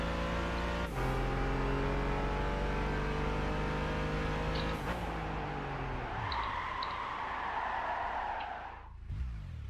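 A race car in Gran Turismo 5 accelerates hard and alone, its engine climbing through steady rising pitch sweeps. Loud, close gear changes break the climb before a screeching slide near the end.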